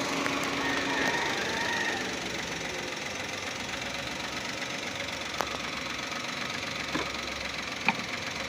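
A 2024 Toyota Wigo with automatic transmission idles roughly with a misfire, its steady engine drone broken by a few faint knocks and ticks, recorded close with no one talking.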